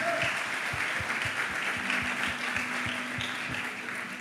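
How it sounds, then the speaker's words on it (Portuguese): A church congregation applauds, a steady wash of many hands clapping at moderate level, with a rhythmic low thumping pulse running beneath it throughout. "Eu reparei que o aplauso mais entusiasmado foi da filha"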